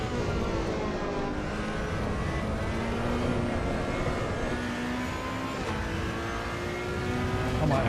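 A race car engine accelerates hard in the sim racing game Assetto Corsa EVO, a steady, loud drone of rising harmonics with several cars roaring together throughout, with a voice talking faintly underneath.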